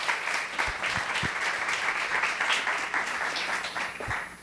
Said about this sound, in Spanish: Así que los recibimos con un fuertísimo aplauso